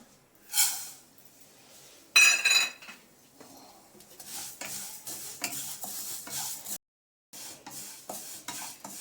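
Vermicelli roasts in ghee while a spoon scrapes and stirs through it in uneven strokes, with a soft sizzle under the stirring and one brief pause.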